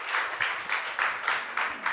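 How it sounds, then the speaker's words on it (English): A forum audience claps for a speaker at a sustainability event, rhythmic bursts of applause pulsing in regular waves, moderately loud and alone without talk. "Round of applause for Greta."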